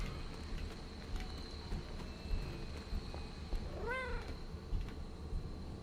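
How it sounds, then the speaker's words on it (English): A single short cat meow in the video game Marvel's Midnight Suns, inside a cave in the Abbey, rises over a steady background hum, heard once partway through. "I heard a cat."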